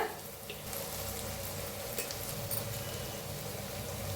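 Turmeric and red chili powder fry in hot oil in a pan for egg fried rice, giving a steady, close sizzle and crackle with faint stirring throughout and no talk.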